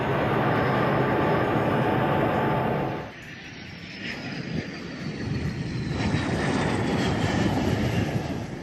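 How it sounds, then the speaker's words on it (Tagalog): A Philippine Air Force FA-50 fighter jet flying in Australian airspace near Darwin, a loud broad engine roar that dips briefly then builds again with a rising whine, heard alone. "Lula ng FA-50 fighter jet lumipad sa airspace ng Australia"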